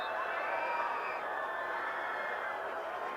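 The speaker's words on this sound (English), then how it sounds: "this crowd pretty vocal tonight so far" Steady crowd noise fills the stands at a Brunswick High versus South Effingham high school football game, a broad continuous roar of cheering and voices at a moderate distance that stays even throughout.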